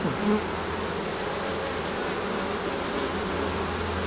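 Honey bees buzzing at an open beehive colony in Quebec, a steady close, dense drone of many wings, continuous and even throughout with no talking.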